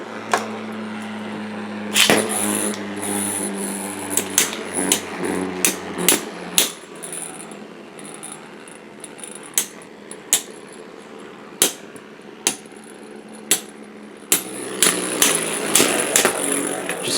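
Repeated hammer strikes in a video game fight, sharp percussive hits landing in quick bursts at first, then spaced single blows, then a dense flurry at the end, over a low steady background hum.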